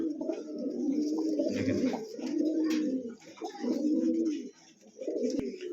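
A pair of black gold archangel fancy pigeons coo up close in repeated low, throaty rolling phrases separated by short pauses.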